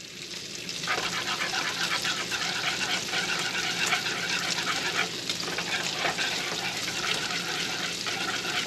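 A larger whisk beating cheese sauce for lobster mac and cheese, a steady wet churning and clattering that runs continuously near the pan, with faint rhythmic strokes throughout.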